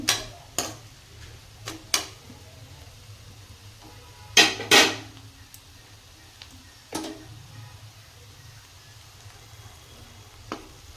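A spatula scrapes and taps against a pan while cauliflower curry, starting to stick to the bottom, is stirred uncovered. Scattered close metallic clinks come at irregular intervals, with a quick double knock midway, over a faint low background hum.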